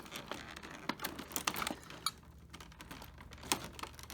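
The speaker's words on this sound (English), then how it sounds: "there's more tape I gotta cut" Blade slicing through packing tape on a train set box, a series of sharp taps, scrapes and crinkles in uneven bursts, close and fairly quiet.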